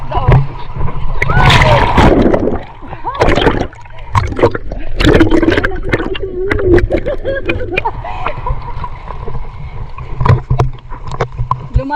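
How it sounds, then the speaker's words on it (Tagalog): Big waves wash in at Shek O Beach in Hong Kong, with splashing surges and water rushing close by, while people talk and call out over the surf. "Ang lalaki ng alon, ang taas ng alon."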